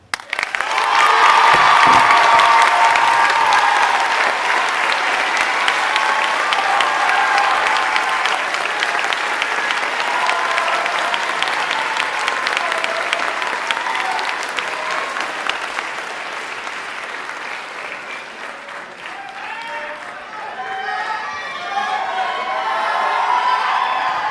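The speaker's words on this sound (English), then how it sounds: "please give a round of applause for Ms. Catherine Drager and Mr. Matthew Mul" An audience at a school band spring concert applauds steadily in a hall for over twenty seconds, a dense, sustained wash of clapping with a few cheers, fading slightly toward the end.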